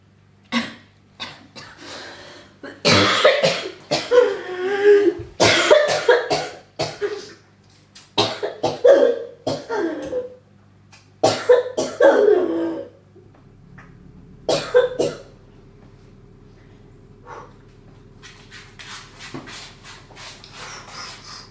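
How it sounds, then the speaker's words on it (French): Repeated coughing and throat clearing from a woman nearby, several bursts spread across the clip with short pauses between, then quieter breathing and faint rustling toward the end. "Non, faut pas que je tousse."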